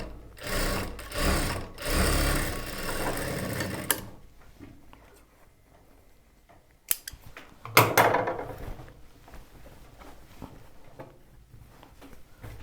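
A sewing machine runs a double line of stitching on a churidar top, its motor whirring in two short, loud bursts, then pausing before a few quieter mechanical clicks and a brief final run.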